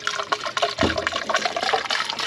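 Water poured into the bone-dry radiator of an abandoned GMC TransMode motorhome, a steady splashing and gurgling fill with a low rushing surge partway through, close by and with no talking.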